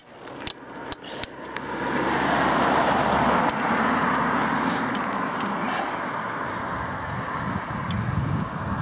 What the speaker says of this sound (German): Ich will aufpassen, hier fahren nämlich Autos jetzt hier.